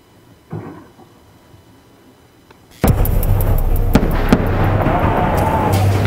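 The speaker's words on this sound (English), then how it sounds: "its signature sound of twin sonic booms having gone subsonic for the last time" Twin sonic booms from a space shuttle returning to its launch site before dawn: two loud, sharp blasts, the first rising abruptly into a sustained broad roar that carries on with rumbling echoes.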